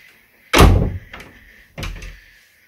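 A wooden wardrobe door in a mountain-resort accommodation room swings open, making a loud close knock with a creak, then a quieter second thud a moment later. No one speaks.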